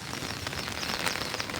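Heavy monsoon rain pours down over Thane and Navi Mumbai, a dense, even hiss of downpour with no gaps, loud and close throughout.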